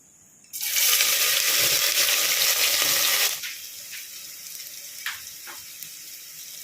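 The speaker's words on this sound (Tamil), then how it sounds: "வெங்காயம் நல்லா வதங்கிட்டுருக்கு." A loud burst of sizzling as onions hit hot oil, then a quieter steady frying crackle with a few clinks of a utensil.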